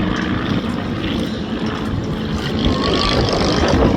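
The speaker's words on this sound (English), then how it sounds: "Very, very manoeuvrable aeroplanes. The very feisty Skybolt." A steady, continuous engine drone of a Skybolt aerobatic biplane flying nearby at the Midlands Air Festival 2025 air display, holding at a fairly constant loudness throughout with no voices.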